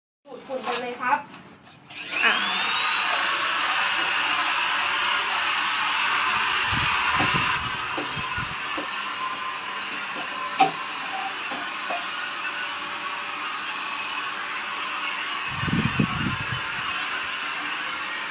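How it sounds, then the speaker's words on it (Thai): A household vacuum cleaner switches on and spins up to a steady, loud whirring roar that runs continuously, with brief knocks and faint voices now and then over the motor noise. "วิธีใช้เครื่องดูดฝุ่นนะครับ ก็เพียงแค่เสียบปลั๊ก นะครับ แล้วก็ กดปุ่มนะครับ"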